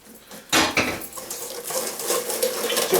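Egg mixture whisked into pancake batter in a bowl, a quick continuous metallic whisking that starts abruptly and scrapes steadily and close against the bowl.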